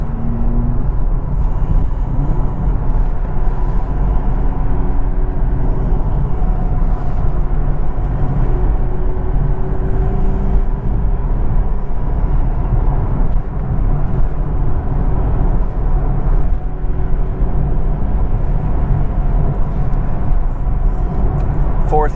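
Steady low engine drone and road rumble from inside a 2023 Nissan Z sports car cruising in fourth gear, continuous and even throughout, with no talk.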